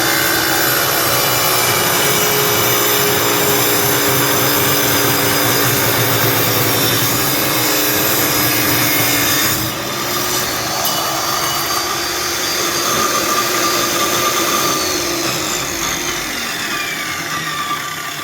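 A small Ryobi saw cuts travertine tile for a backsplash, giving a loud, continuous high grinding whine that dips briefly midway and then resumes steadily.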